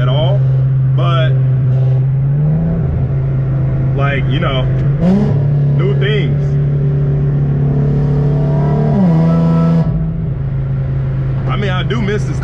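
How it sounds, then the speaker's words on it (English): Infiniti G37 exhaust droning steadily while driving, with a low constant engine tone that shifts pitch briefly as it changes speed, under continuous close speech from the driver. "exhaust is so raspy"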